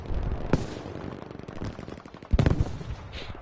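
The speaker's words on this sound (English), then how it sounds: "Oh, a big explosion going off." In a video game battle, rapid gunfire rattles continuously while two heavier blasts hit, the second, an explosion, louder and rumbling, with a faint higher tone trailing near the end.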